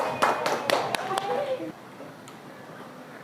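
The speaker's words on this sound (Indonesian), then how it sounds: "Tepuk tangan untuk kelompok 3." Classroom applause for a student group after their presentation, a few sharp claps in the first second and a half that quickly fade to quiet room tone.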